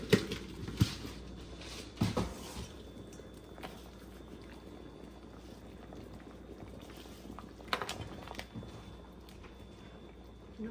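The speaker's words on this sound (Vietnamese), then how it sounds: "Cho sôi cái này." A pot of food simmers at a soft, constant boil on a home stove, with a low bubbling hiss and occasional louder clinks and knocks from cookware during dinner preparation.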